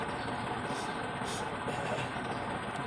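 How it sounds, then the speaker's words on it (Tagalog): A motorcycle engine idles steadily while warming up before a ride, a continuous low rumble close by with no voices over it. "Kailangan mo nang painitin saglit yung makina para ganahan yung ating kabayong tumakbo."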